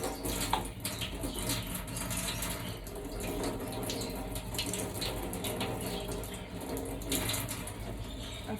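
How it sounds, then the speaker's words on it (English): Cold tap water runs steadily into a container for a budgie cage, a continuous close gush and splash that stays at an even level throughout, with no voices. "fill it up with cold water"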